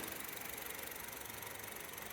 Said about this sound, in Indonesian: Seperti ini kondisi saat mesin menyala. Ini mesinnya sangat halus, normal ya.